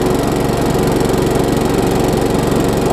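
A Craftsman self-propelled lawn mower with a Tecumseh engine runs at a steady speed, loud and close, in a continuous even drone with no talking.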